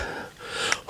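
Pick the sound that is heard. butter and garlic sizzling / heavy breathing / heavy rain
heavy breathing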